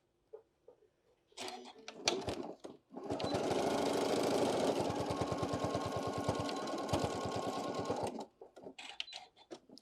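A sewing machine stitches straight across a bag for about five seconds of steady loud whirring, with brief bursts at the start and end for back tacking, surrounded by small handling clicks.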